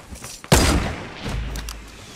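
A sudden loud boom of rocket or gunfire in Fortnite gameplay, one sharp blast followed by a rumbling decay and distant crackle over about a second and a half.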